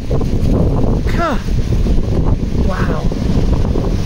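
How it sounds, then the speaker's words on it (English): Very strong wind blowing outdoors, heard as a loud constant roar and buffeting against the microphone, with a brief exclamation from a voice partway through. "I can't believe how strong that wind is."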